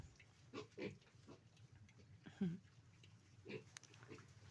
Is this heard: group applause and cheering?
no